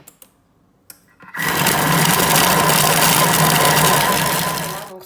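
Thermomix food processor chopping chicken into a paste at speed 5: a loud, steady whirring motor drone that starts abruptly after a few soft clicks and runs for several seconds before easing off.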